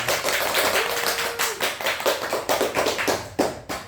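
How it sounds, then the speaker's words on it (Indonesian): A classroom of students claps hands together at the end of a math lesson, a loud burst of quick, uneven claps close by that becomes sparser, separate claps toward the end. "kita beri tepuk tangan untuk kelas ini."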